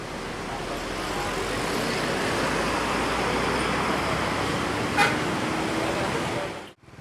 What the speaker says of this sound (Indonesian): ini bus yang datang dari arah Padang Panjang ya